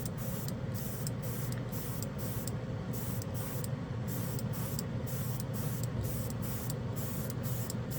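Chrome spray paint hisses from a can onto a black plastic spoon in a steady, close, continuous spray with faint rhythmic pulsing and no talk.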